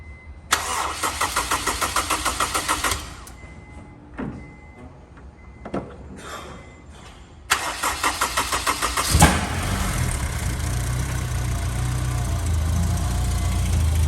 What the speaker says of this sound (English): So now we're gonna go ahead and give it a start and see if it runs, guys.